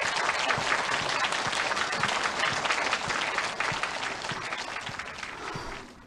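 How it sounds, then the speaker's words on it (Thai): Applause from a film festival audience as the chairman is invited onto the stage, a dense, steady wash of many hands clapping that slowly tapers off toward the end. "ขอเชิญประธานงานเทศกาลหนังโมร็อกโกขึ้นมาบนเวทีขอเสียงปรบมือด้วยค่ะ"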